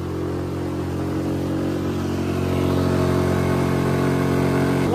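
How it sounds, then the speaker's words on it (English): A 6hp outboard motor on a microskiff runs hard at high revs, holding a steady, loud drone that rises slightly in intensity partway through, with no talking. "Wants to bounce off the rev limiter."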